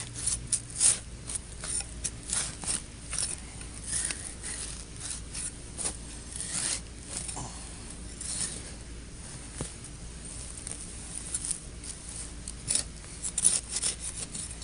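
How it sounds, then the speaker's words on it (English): A hand trowel with a 7-inch blade digs a larger plug in soil while metal detecting, giving repeated short scraping and gritty rasping strokes, close and fairly quiet, with no speech. "Probably have to dig a little bit bigger plug here."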